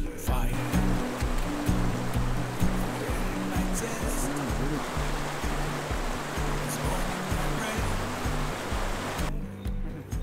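Two mountain rivers, the Dhelung and Changla, meet in Nepal's remote Humla region and roar steadily together. The rushing water fills the whole clip as a loud, constant wash, with music running underneath it.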